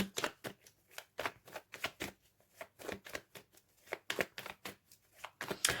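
A deck of tarot cards shuffled by hand during a love reading, producing a rapid series of soft, close riffling and slapping bursts in an uneven rhythm, quiet and with no talking.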